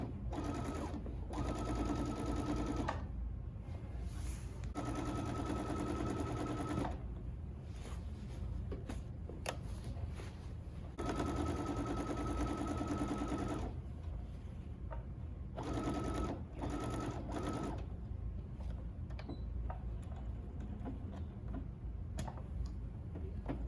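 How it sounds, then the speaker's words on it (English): Sewing machine stitching a fabric triangle into the back of an upcycled skirt, steady whirring runs of several seconds broken by short pauses, close and even with fine ticking between bursts. "So we're gonna sew the triangle in back here, get a nice pattern going"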